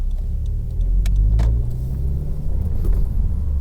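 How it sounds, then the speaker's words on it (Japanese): Manual-transmission car pulling away from a stop and turning left, a low engine rumble building steadily from the cabin, with small clicks and knocks over it and no talking. "これが基本的なマニュアルの発進の仕方ですね。"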